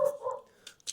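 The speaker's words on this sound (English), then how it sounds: "apologies about the dogs in the background" Dogs barking in the background, a couple of short distant barks and yips within a second, faint and alone.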